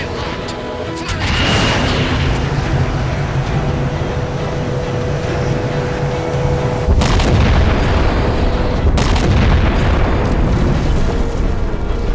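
In the Halo 4 video game, a massive weapon fires with a loud, deep blast at the start, then a sustained roaring rumble that swells again with a second heavy surge near the end.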